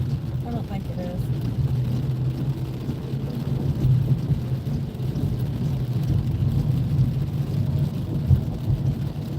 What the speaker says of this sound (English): I'm in a hurry too, but it's rainy.